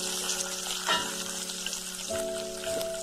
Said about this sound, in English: When the oil is hot, add the garam masala and bay leaf